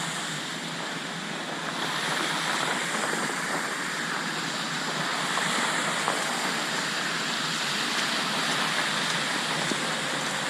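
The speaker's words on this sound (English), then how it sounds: "this is the water flooding out to fill the pond" Flood water overflows and rushes out to fill a pond during the Langtoft floods, a steady, loud broadband roar of pouring water that continues unbroken throughout, with no voices.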